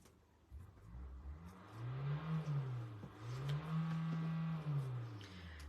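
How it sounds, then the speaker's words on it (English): A neighbour's car engine revs twice in long rising and falling swells. It is heard faintly from a distance outdoors, under a low background hum, with no talking. "My neighbours have just decided to rev up their car."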